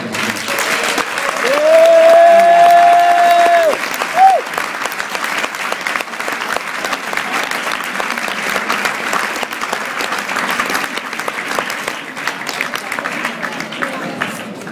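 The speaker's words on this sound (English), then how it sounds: "Give her the clapping!" A crowd at a salsa congress applauds at the close of a musicality lecture, a long, loud, sustained wash of clapping with a voice briefly calling out over it early on.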